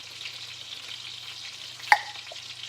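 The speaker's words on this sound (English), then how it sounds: "Just gonna give that a stir." Sauce seasoned with coarse black pepper is stirred in a pan over a low sizzle, a soft steady hiss with one sharp clink of the utensil near the end, no talking.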